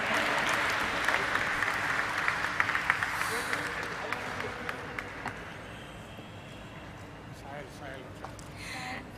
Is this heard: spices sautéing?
no